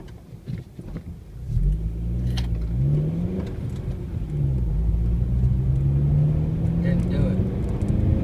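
A 2013 Honda Civic Si engine revving in first gear, rumbling low and rising in pitch in several swells, close by, after a few brief knocks and some talk at the start.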